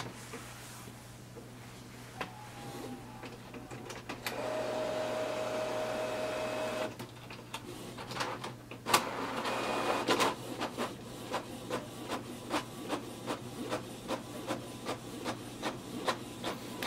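A Canon Pixma TS6350 wireless printer starts up with clicks and a whirring feed, then runs a page through with a rhythmic series of mechanical ticks and motor pulses, close and fairly quiet.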